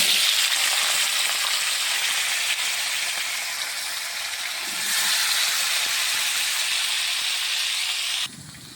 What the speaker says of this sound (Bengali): মাছ ভাজার তেলে আলু দিয়ে দেবো।